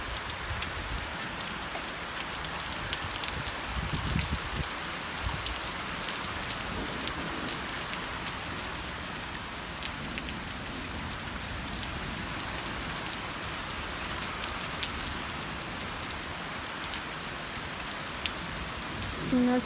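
Heavy rain pours steadily in Piedras Limpias, a dense continuous hiss of drops hitting surfaces, with occasional louder splatters standing out from the constant wash.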